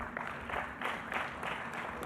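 An audience claps for the UCU Mukono team at a testing-services launch event, with steady clapping in rhythmic bursts and brief crowd sounds under it.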